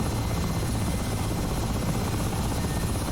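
A Mi-8 helicopter in the DCS flight simulator taxis on its wheels along a runway, its engines and rotor making a loud, constant whining drone with no pauses and no voices.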